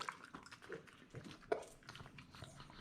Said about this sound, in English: got to do the dog taste test